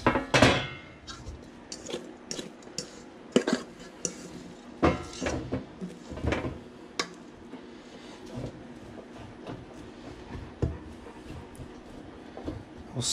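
Breadcrumbed cauliflower pieces are spread across a metal baking pan, giving close, irregular clatters and scraping knocks of food and utensil against the pan over a low room hum.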